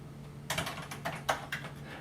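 Code is being typed on a computer keyboard, a close run of a few crisp, distinct keystrokes in quick, slightly uneven rhythm over about two seconds, with no talking.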